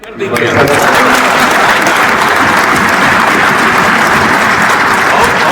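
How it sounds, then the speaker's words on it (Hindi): At a political gathering, a crowd bursts into loud, continuous applause for Samrat Choudhary alongside Nitish Kumar, sustained and dense from start to finish. "नीतीश कुमार ने ताली बजवाई सम्राट के लिए"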